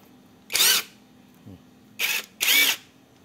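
An impact wrench converted into a cordless drill whirs in three short, loud bursts, each lasting about a quarter second, with a faint click between the first two bursts and a steady low hum beneath.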